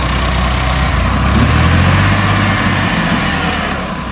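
A tractor engine runs steadily, a loud low rumble that swells slightly midway and then eases, with no talking over it.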